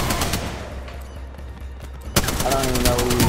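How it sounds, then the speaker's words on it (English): Rapid automatic gunfire from an Apex Legends match, bursts of shots running throughout with a sharper, louder volley near the end amid busy game noise and possible voices. "shoot it without aiming"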